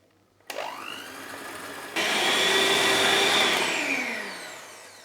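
An electric whisk starts up at close range and then shifts to a higher speed, whirring steadily as it beats egg yolks with sugar, and its pitch gradually falls as the mixture thickens.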